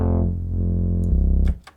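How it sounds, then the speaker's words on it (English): A synthesizer oscillator with unison feeds an analog tube distortion unit, producing a buzzing, gritty sustained tone that holds, changes character and cuts off abruptly, followed by short clicks. "See, that's an analog, like, tube distortion."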